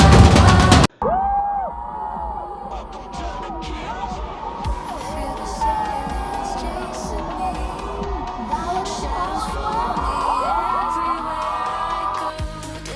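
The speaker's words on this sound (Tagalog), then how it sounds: "Dumagundong ang buong arena sa lakas ng sigawan at walang sawang suporta ng mga pageant fans" A dense arena crowd of pageant fans screams, whoops and cheers at the Miss World Philippines 2026 coronation night. Many high-pitched shrieks overlap in a loud, sustained roar after a brief cut near the start.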